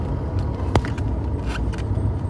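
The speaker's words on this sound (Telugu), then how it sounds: "మన వెహికల్కి కొద్దిగా షాకప్ గేర్ ప్రాబ్లమ్స్ ఉన్నాయి. సో అందువల్ల కొద్దిగా ఎగరడం, సౌండ్ చేయడం అనేది చాలా ఎక్కువ వస్తుంది." A car with faulty shock absorbers, driven through city streets, gives off quick clattering rattles and knocks over a low, continuous engine and road rumble.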